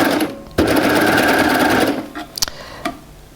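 A Baby Lock serger sewing a back shoulder seam, a loud, fast mechanical whir running steadily for over a second before stopping, followed by a few small clicks.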